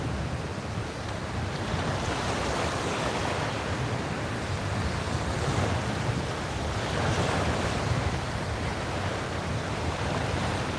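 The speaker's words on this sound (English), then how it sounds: "I know it's a little windy, but I'm hoping that the mic is taking out some of that wind for you" Waves breaking and washing on a windy beach, a steady loud roar of surf mixed with gusty wind buffeting the microphone, rising and falling slightly in surges throughout with no one speaking.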